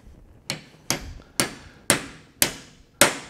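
Six sharp metallic hammer blows, spaced about half a second apart, drive a 14 mm Grip Edge socket extractor down onto a tight, stuck nut; each strike rings briefly and loudly with no talking.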